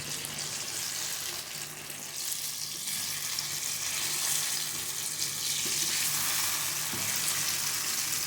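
A mango and lasoda pickle mixture with white vinegar cooks over a raised flame in a pan, making a continuous hissing sizzle with some watery bubbling. The sound runs steadily and close throughout, with no talk.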